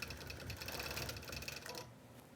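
A sewing machine runs steadily as it stitches quilt binding, a close, rapid mechanical whir of needle strokes lasting under two seconds before it stops abruptly into quiet.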